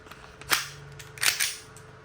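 Two sharp airsoft shots from an E&C Glock 19 pistol being test fired, spaced about three-quarters of a second apart, each a crisp snapping pop with a short tail, loud and close with no talk.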